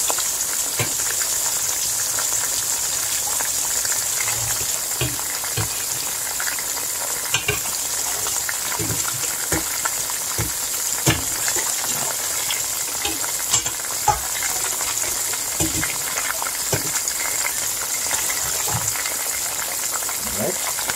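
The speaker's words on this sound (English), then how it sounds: "When I cover that down, wait for it to fry some." Oxtail fries in a covered pot with a steady, dense sizzle and small crackles throughout, close and loud, and faint talk now and then under it.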